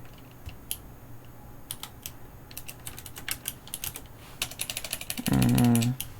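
Someone types a password on a computer keyboard: scattered, crisp key clicks that quicken into a close, steady run of keystrokes, with a short hum near the end.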